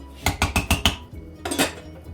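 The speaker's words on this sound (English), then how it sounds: "so let me cover this now." A metal lid is set onto a cooking pot of beef stroganoff, giving a quick run of four or five loud clattering clanks followed by one more clank after a short pause, close and with no voices.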